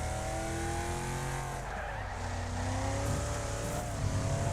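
A race car in the demolition-derby racing game Wreckfest roars continuously with engine revving and tire squeal as it drifts through a corner, loud and steady throughout.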